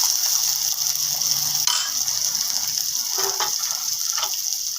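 Big onions frying in a pan, a steady bright sizzle with a few stirring scrapes and clinks, close up and without talk.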